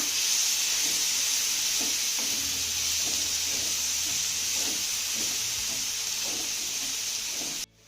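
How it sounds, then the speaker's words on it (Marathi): Chopped tomato sautés in a pan with ginger garlic paste, giving a loud steady sizzle and hiss with soft rhythmic stirring scrapes, cut off abruptly at the end. "आता हा टोमॅटो देखील एक मिनिटभर चांगला परतून घेऊया"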